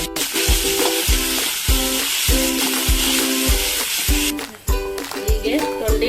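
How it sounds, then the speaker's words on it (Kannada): Chopped ivy gourd fries in a little oil, giving a steady, close sizzle that runs throughout beneath rhythmic background music. "ಮೆತ್ತಗಾಗುವವರೆಗೆ ಹುರಿದುಕೊಳ್ಳಬೇಕು."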